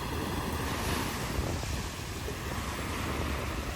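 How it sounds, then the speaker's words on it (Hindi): Strong sea waves surge and break on Pattaya beach in high wind, a dense continuous roar of surf with gusts buffeting the microphone. "आज हवा तेज है तो लहरें भी अच्छी है, खासी उफान में है।"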